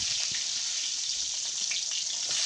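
Diced eggplant frying in ghee in a pan, a steady close hiss of sizzling that fills the moment without pause or speech.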